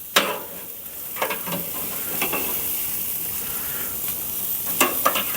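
Pork sizzles on a Monument Grills Mesa II 410FBZ grill in a steady, close hiss, broken by a few sharp pops and crackles, with no talking.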